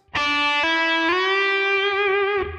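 An electric guitar note slides up in pitch, then bends a half step higher and sustains, bright and overdriven, played alone.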